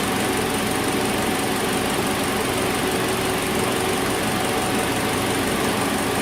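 A Hyundai Elantra engine idles in a shop after several minutes of running, producing a constant broadband hum with no breaks or change in level throughout.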